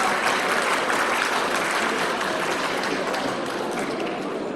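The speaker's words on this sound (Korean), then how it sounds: "박수로 환영해 주십시오" Sustained audience applause fills a formal ceremony hall at the Korea Nara Jangteo procurement expo as a co-hosting official is welcomed, a dense, steady clatter of many hands that stays loud for the whole stretch and eases only slightly at the end.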